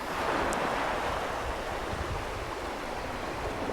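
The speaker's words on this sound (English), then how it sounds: "As the waves pull back into the sea" Sea waves pulling back over rocks on the rocky shore at Findochty, Scotland, a steady broad wash of surf with some wind noise, loud and continuous, with no voices.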